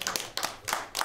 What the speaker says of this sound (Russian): Аплодисменты, казалось, звучат не смолкая.